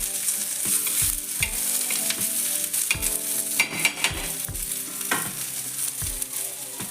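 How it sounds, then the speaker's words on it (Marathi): Spice masala for fish curry roasting gently in a pan: a steady sizzle with frequent scraping strokes and ringing metallic clinks as the spatula knocks the pan, close and fairly loud, with no voices. "त्यासाठी हलक्या हाताने गुलाबी होईपर्यंत असा हलक्या हाताने भाजून घ्यायचा आहे"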